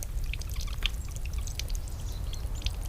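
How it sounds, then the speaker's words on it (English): Water trickling and dripping from a small frozen waterfall, a continuous close patter of drops with brighter individual splashes scattered irregularly across a low rumble. "drop by drop, the ice keeps building, and the little frozen waterfall keeps on growing"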